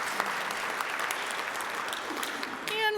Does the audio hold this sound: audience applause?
yes